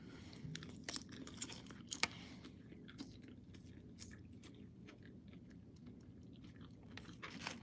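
Quiet, close chewing of salad dressed with black truffle infused olive oil, soft crunchy bites and mouth sounds repeating steadily with no talking.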